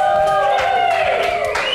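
A live studio audience at a hostel show cheers and whoops loudly, with clapping mixed into a dense crowd roar that stays strong throughout the short burst.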